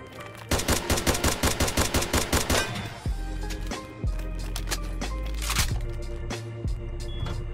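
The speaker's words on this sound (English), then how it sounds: "I went over to some gunshots that I heard." Gunshots in the video game Fallen Survival crack out in a fast, regular burst of automatic fire, followed by more scattered shots and heavy rumbling impacts, loud and close.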